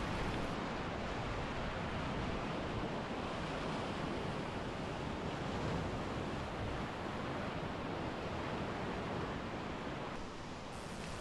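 Big whitewater waves of Rubber rapid on the Middle Fork of the Salmon River, rowed at low 3.4-foot flow, roar as a steady, dense, loud rush of churning water with constant wind buffeting the microphone throughout.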